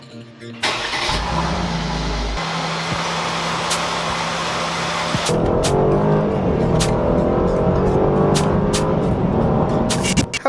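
A Mercedes W204 C300 fitted with retrofit C63 AMG paddle shifters starts up and settles into a steady mid-pitched idle in drive, with sharp clicks from the paddles tapped several times over the running engine.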